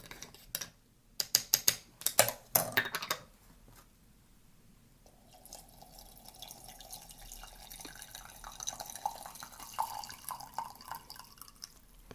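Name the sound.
stirring a cup of brewed green tea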